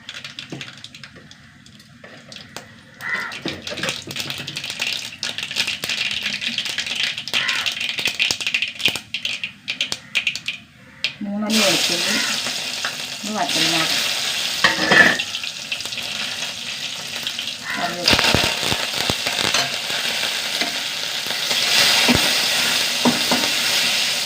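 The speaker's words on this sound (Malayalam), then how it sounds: "കുറച്ച് വെളിച്ചെണ്ണ ഒഴിച്ചു കൊടുക്കാം ചൂടാകട്ടെ കടുക് കൊടുക്കാം" Mustard seeds splutter in hot coconut oil in a pan, with a soft, low hiss at first, then a burst of loud sizzling and crackling popping that continues steadily and close by.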